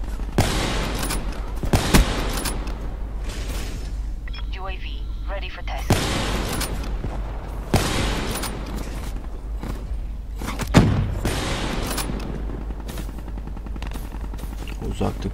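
Heavy machine gun fire in the video game Black Ops 3 rattles in repeated loud bursts amid other battle noise, with someone talking over much of it.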